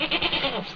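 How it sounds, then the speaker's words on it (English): A goat named Barely bleats in a 1930s film scene, a close, loud, wavering cry that fills the brief moment without any talk over it. "Barely's a very wild goat, isn't she?"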